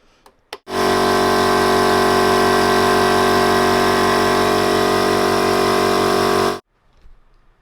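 An extractor fan mounted in a drilled box lid for a Hummer build roars on abruptly, holding a loud, steady whine with a low hum for about six seconds before cutting off sharply.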